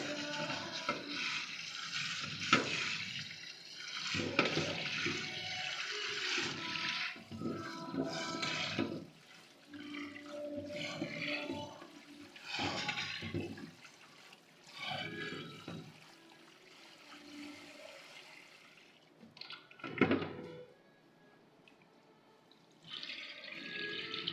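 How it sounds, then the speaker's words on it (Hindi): Yellow and orange lentils rinsed in water in a kitchen, with sloshing, pouring and trickling water in repeated bursts and short pauses, fairly close and moderately loud, no talking. "और इसको अच्छी तरह से पहले धो लेते हैं।"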